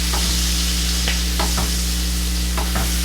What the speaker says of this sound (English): I'm going to add about 2 tablespoons of cilantro. Give this a little stir.